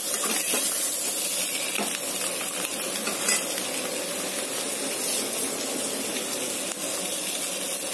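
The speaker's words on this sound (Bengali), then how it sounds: "আর এখানে ডিমও ভেজে নিচ্ছে" Eggs frying in a home kitchen pan, a steady bright sizzle and hiss running continuously throughout, close and fairly loud with faint scraping stirs now and then.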